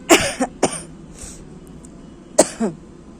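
Several sharp coughs from a person with a cold, close to the mic: a quick cluster of three at the start, a pause, then two more near the end, with no talking.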